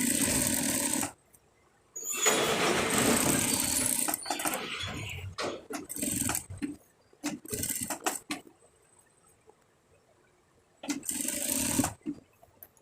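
Sewing machine stitching a fatua in bursts, each run a dense whirring rattle lasting a few seconds, broken by short quiet pauses and small handling clicks.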